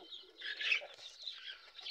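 A desi laying hen on a home farm gives soft, close clucking and chirring calls, a faint uneven run of short notes with brief rustling.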